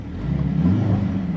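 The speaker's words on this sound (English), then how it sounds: "how the sound actuator plays together with the rear exhaust" A 2024 Mercedes-AMG GLC63 S engine hums and rumbles steadily at idle, with a low throaty exhaust tone blended with its sound actuator and slight revving swells throughout.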